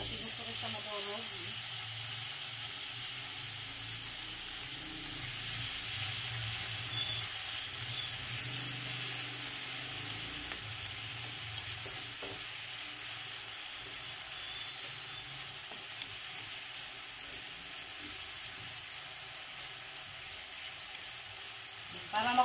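Chopped tomato fries in Star margarine for a cheesy pork ribs caldereta, giving a steady close sizzle and hiss that holds for the whole stretch with no talk.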